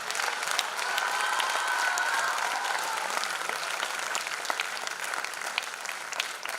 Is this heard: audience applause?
yes